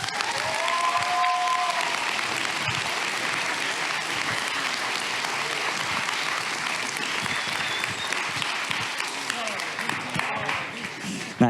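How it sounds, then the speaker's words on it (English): A crowd at a fan event in Lithuania applauds for Sunny Suljic, the young actor behind Atreus in God of War, in a sustained, dense burst of clapping that holds steady for the whole stretch with faint voices beneath. "please give a big round of applause for Suljic."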